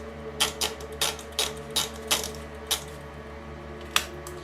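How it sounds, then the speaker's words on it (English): Typewriter typing a logo onto a stencil for electric etching a knife, with about eight sharp separate key strikes at an uneven pace, close and distinct over a steady low hum. "So we're going to use a typewriter."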